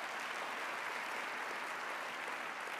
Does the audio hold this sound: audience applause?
yes